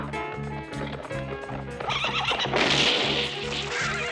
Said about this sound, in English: that horse is galloping Rudy away